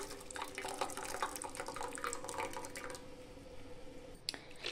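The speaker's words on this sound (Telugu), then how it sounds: "వాటర్ అన్నీ వేరే గిన్నెలో కొంచేసుకోవాలి" Water from pressure-cooked lentils is poured off into another bowl, a faint close trickle and splash with soft dripping that tapers off near the end.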